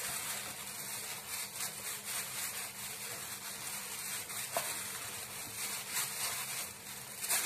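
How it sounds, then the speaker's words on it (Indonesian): Tapioca starch dough for cenil is stirred in a pot, giving a continuous, soft scraping and rubbing texture with faint sizzling hiss underneath, steady and close, with no talking. "Tambahkan tepung kanji pelan-pelan sambil kita aduk"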